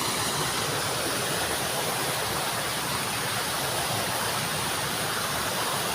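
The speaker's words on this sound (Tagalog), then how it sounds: "sobrang linis ng batis na to" Steady, dense rush of a fast, crystal-clear stream, loud and continuous throughout with no pauses, close by.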